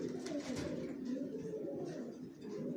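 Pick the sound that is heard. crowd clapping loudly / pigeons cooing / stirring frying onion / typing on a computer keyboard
pigeons cooing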